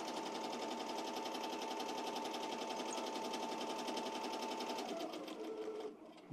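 Ricoma EM-1010 embroidery machine stitching appliqué at 700 stitches per minute: a close, steady, rapid mechanical chatter with an even pulsing rhythm that winds down near the end, alone without voices.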